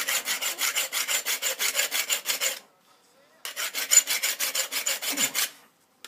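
A tool being rubbed back and forth across a sharpening pad during a DIY job fitting a metal fireplace surround, fast, even rasping strokes in two bursts separated by a short pause, close and alone.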